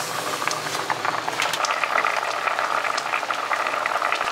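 Plum sauce pork ribs simmering in a cast iron pot, a steady close bubbling and sizzling hiss with faint rattling, continuous and without voices.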